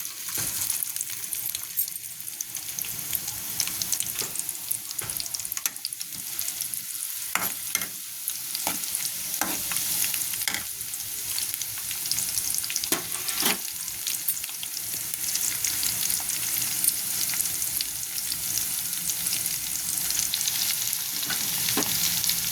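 Chopped onion and green chillies fry in a pan: a loud, steady sizzle runs throughout, broken by frequent scraping and clinking strokes of a spoon stirring close by, with no voices.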